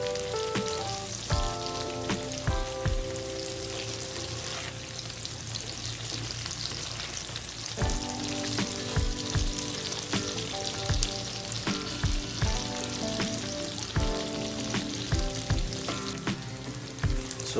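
Tofu and mushrooms fry in a pan with a continuous crackling sizzle of spitting oil, near and steady, under a faint tonal hum, with intermittent pops and clicks from stirring.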